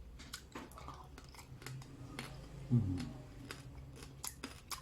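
Crispy roast pork from a whole roasted pig at a Bangkok weekend market, dipped in seafood sauce, crunched between the teeth in close, repeated bites with a louder crunch midway, over faint background noise.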